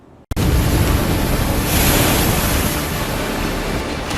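Storm waves from Cyclone Biparjoy pound the Gujarat coast in a loud, unbroken roar of surf and wind that bursts in suddenly after a brief quiet moment and stays heavy to the end.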